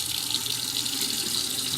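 Water runs steadily from a hot water tap into a sink, a constant close rushing splash with no talk.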